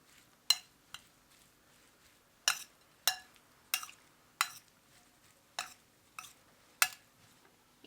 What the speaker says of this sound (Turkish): Ve iyice karıştırıyorum.